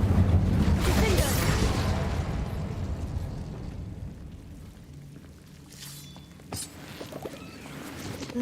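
Incendio fire spell cast in the Hogwarts Legacy video game, a loud whooshing fiery burst at the start that fades into a low rumble, followed by a few smaller pops.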